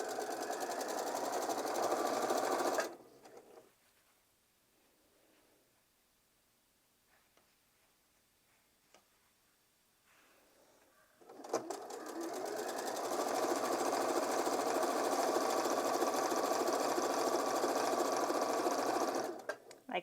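A sewing machine stitches in a loud, steady whirring run close by, stops for several seconds of quiet with small handling noises, then starts again and runs steadily to the end.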